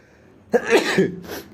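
A single sharp, close cough bursts out, followed a moment later by a shorter, breathy second cough.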